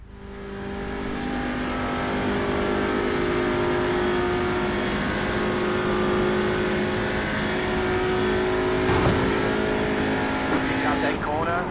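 A TCR touring race car at full throttle at Watkins Glen, its engine holding a steady, loud, high drone for several seconds before a brief shift or lift near the end, the note barely changing pitch.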